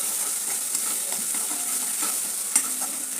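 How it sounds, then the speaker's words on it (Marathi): Ground masala paste with garam masala and homemade spice mix stir-fried in a pan for a festive vegetarian thali, giving a steady close sizzle with light scraping and stirring clicks throughout. "याला आता चांगलं परतून घेऊया."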